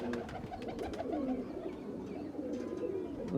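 Pigeons coo close by in soft, throaty, rolling calls that repeat and overlap for a few seconds, with no talking.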